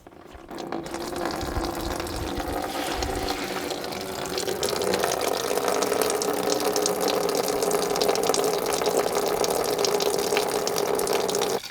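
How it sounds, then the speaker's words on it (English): Old coolant pours from a radiator drain bung into a drain pan in a steady splashing stream that grows fuller partway through, alone and close. "now I can just loosen off this little drain bung in the bottom of the radiator, and we'll just try and catch all of that coolant"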